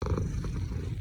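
Synthesized cat purr, a low, rumbling, continuous purr with a slightly rough, growly texture, steady and fairly loud throughout with no voices.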